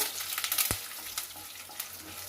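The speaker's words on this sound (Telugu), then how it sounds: "రెండు ఎండుమిరపకాయలండి, కరేపాకండి. కొంచెం బాగా వేపుకోవాలి." Dried red chillies and curry leaves frying in a pan crackle and sizzle steadily, with a single soft knock of a utensil early on, fairly quiet and close with no speech.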